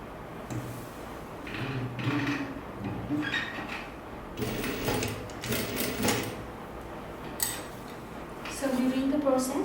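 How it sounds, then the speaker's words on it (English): Sewing machine stitching an ao dai collar in short bursts of mechanical whirring, separated by clatter and handling noises, with talk over parts of it. "The meeting point in, and then we start sewing."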